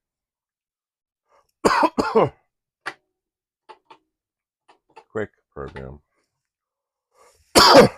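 Several short coughs break up quiet stretches between bits of talk from a person at a Commodore PET computer, with a louder burst near the end, nearby and dry.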